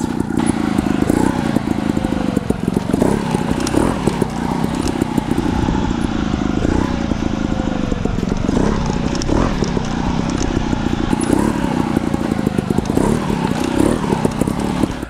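Trial motorcycle engine running steadily throughout, revving and surging as the bike rides up and over wet wooden pallets, with irregular pulses of throttle close by and no talk.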